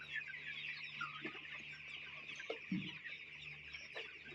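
Several chickens on a poultry farm cluck softly and intermittently against a faint steady background hiss, with a few short low clucks standing out.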